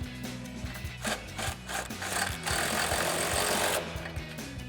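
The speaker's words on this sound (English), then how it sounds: "we'll go ahead and run that in with our impact" Impact wrench driving in a bolt on an exhaust system install, rapid hammering bursts in a stuttering on-off rhythm with a sustained run near the end, loud and close.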